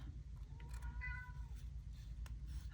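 A pet cat named Sweetie gives a single clear, drawn-out meow close by, rising and falling over a steady low background hum.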